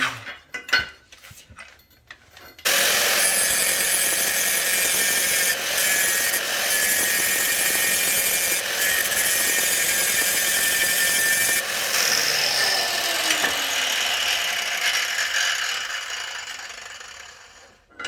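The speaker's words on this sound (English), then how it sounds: "I'm just going to skip right to the angle grinder and try and be precise with it" An angle grinder grinding metal nuts: a harsh, steady grinding roar starts abruptly after a couple of quiet seconds and holds loud and continuous until the end, with a high metallic hiss throughout.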